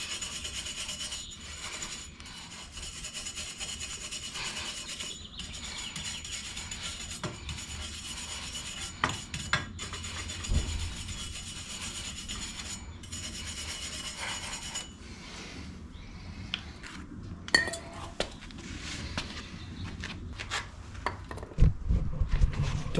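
Brass brush with parts cleaner scrubbing Honda CBR250R motorcycle parts: close, irregular scraping and rubbing strokes, sometimes pausing, with occasional light knocks and no speech.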